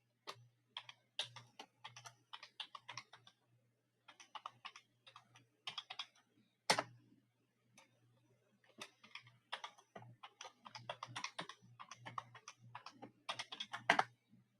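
A password typed on a computer keyboard comes through as quiet, quick key clicks in short bursts with brief pauses between them, along with a faint steady hum and no talking.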